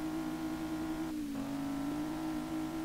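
A riced-out Laguna's engine revs in the Street Legal Racing Redline driving game, a steady droning whine that dips briefly as it shifts and then climbs again, loud and continuous.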